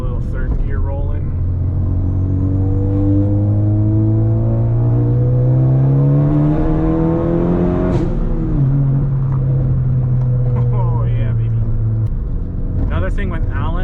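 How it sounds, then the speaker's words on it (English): Big-turbo Ford Focus ST four-cylinder pulling hard in third gear, its engine note climbing steadily in pitch, then a brief dip at the shift before rising again, loud and close from inside the car, with a voice speaking briefly. "I hope you guys can hear that noise. It is mint. I'm gonna do a little third gear rolling."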